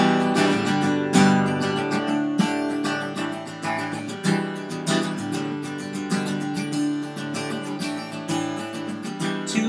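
Strummed acoustic guitar chords ring out in a steady rhythm, the top two open strings sustaining constantly over changing chord shapes, with no voices.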